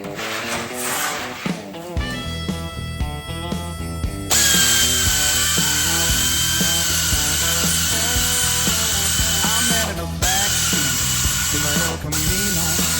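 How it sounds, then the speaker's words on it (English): Air-driven scissor cutting sheet metal on a car body, a loud high-pitched pneumatic whine with rapid chattering bites, steady and close, with a few brief pauses. "I think I have air-driven saw, or not a saw, a scissor, I guess it is."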